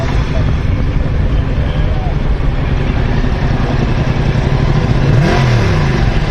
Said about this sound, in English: Probably sit there and rev it too.